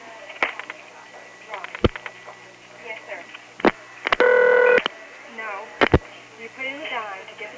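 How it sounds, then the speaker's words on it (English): Touch-tone telephone keypad dialing on a 1977 Step-by-step ESS switching system: a few isolated keypress beeps, then one steady tone burst, with a voice talking around the beeps. "So you dial 1, 305, and the number you gave."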